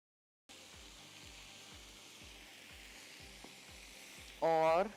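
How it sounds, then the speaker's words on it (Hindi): Chicken pie filling is sautéed in a pan, with a steady close sizzle and a regular rhythm of stirring strokes, ending in a brief louder clatter. "इस तरह सॉटे करिए।"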